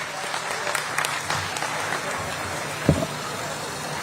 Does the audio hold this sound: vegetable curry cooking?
no